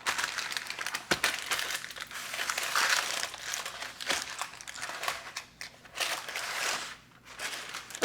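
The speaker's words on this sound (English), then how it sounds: "I like to cover mine with parchment." Parchment paper crinkles and crackles as it is pressed over homemade pistachio ice cream, a close, continuous rustling with a few sharper crunches.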